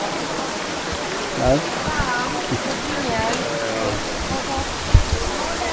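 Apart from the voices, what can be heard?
waterfall on Levada das 25 Fontes trail, Madeira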